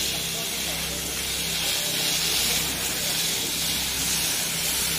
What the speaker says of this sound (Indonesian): Kita melihat hasil semprotannya langsung lumpur-lumpur habis.